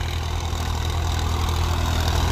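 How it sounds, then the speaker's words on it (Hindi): A Farmtrac tractor working a wet paddy field in second high gear, its engine giving a steady, loud, low diesel drone with a continuous throbbing rumble and no pauses. "तो भाई देखो दूसरे के हाई में चल रहा है फार्म ट्रैक"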